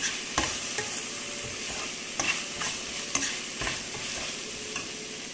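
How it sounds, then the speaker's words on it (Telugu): Moringa leaves frying in a pan for a tomato moringa curry, a steady close sizzle with occasional sharper clacks of a stirring spoon against the pan, no talking. "ఆకుకూరలు ఎప్పుడైనా తొందరగానే ఫ్రై అయిపోతాయి అసలు లేట్ అవ్వదు"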